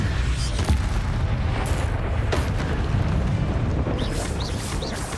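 In the Hogwarts Legacy video game, a Confringo spell bursts in a heavy booming explosion with a dense rumbling roar that lingers, followed by a few higher whooshing and crackling effects.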